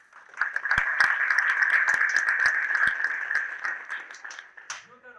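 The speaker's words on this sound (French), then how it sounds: "Donc déjà, merci Romain, pour l'applaudir." Audience applause after a talk, scattered sharp claps over a steady hum, building quickly then thinning out, with a voice starting at the end.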